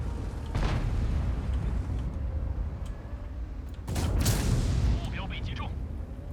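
Tank cannon fire in the World of Tanks video game, a deep rumbling boom with a long roll and a second heavier blast later, under game noise and background engine rumble.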